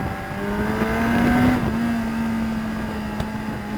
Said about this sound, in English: Get wheel spin off this one.